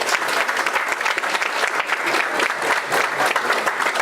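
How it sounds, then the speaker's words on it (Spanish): A conference audience gives a loud, sustained round of applause as a departing speaker leaves a specialized lecture session, dense clapping running steadily from start to finish without a break. "les pido despedirlo con un fuerte aplauso"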